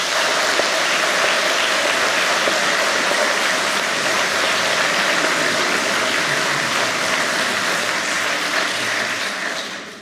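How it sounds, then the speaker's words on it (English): Sustained, dense applause from a large audience thanking Natalie, David and their helpers at a divinity event, a steady roar of many hands that holds loud throughout and tapers slightly at the end, with no speech over it. "So I think they deserve a round of applause."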